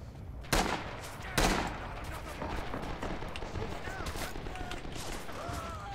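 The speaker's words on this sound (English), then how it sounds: "I could hear the MP40." MP40 submachine gun fire in a World War II shooter game on a Western Front map, with two sharp loud bursts early followed by a steady crackle of more distant gunfire and battle noise.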